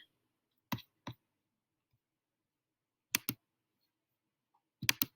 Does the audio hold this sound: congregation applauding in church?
no